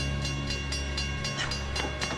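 A locomotive approaches, with a loud, steady rumble and a rhythmic clatter of wheels over rail joints, heard close for a couple of seconds.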